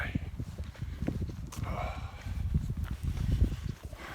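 Horse hooves clip-clop at a steady walking pace on an uphill country road near Chidden Down, close and fairly loud, with a brief voice exclamation.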